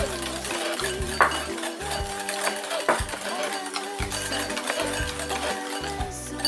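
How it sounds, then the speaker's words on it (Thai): A batter of egg yolk, sugar, oil and water is stirred in a bowl, producing steady scraping and light clinking of a utensil against the bowl throughout, with music playing underneath. "แล้วก็น้ำเปล่าที่เราเตรียมไว้ค่ะแล้วก็คนให้เข้ากัน"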